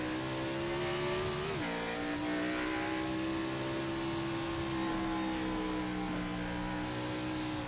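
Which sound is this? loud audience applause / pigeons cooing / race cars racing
race cars racing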